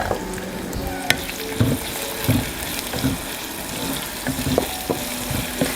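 Onions and curry leaves sauté in hot oil for a Kerala-style curry, with a steady sizzle throughout. Repeated scraping clicks of a spoon stirring the pan sound up close, and no one speaks.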